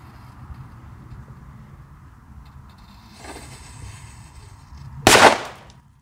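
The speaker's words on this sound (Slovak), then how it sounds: "tieto petardy sú dobrý shit, ale rána to bola dosť veľká" A Cobra 8 firecracker goes off inside a small washing machine, giving one sharp, very loud bang that rings out briefly. A quieter thud comes a couple of seconds earlier, over low outdoor background noise.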